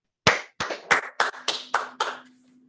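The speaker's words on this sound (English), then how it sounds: "please join me in congratulating our newly commissioned ensigns with another round of applause" Applause for newly commissioned U.S. Navy ensigns at a virtual commissioning ceremony: about seven distinct, close hand claps in a quick, slightly uneven rhythm, trailing off with a faint steady hum underneath.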